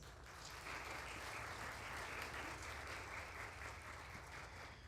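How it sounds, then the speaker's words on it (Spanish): Audience applause at a university alumni reunion for public accounting graduates, sustained clapping from a crowd heard at a moderate distance, fairly quiet and even, with no talk over it. "un gran aplauso para ustedes y muchas gracias"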